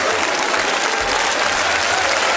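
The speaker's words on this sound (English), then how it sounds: "you don't want to have an applause?" Steady, full audience applause from a crowd at a St. Patrick's Day celebration, loud and sustained throughout without a break.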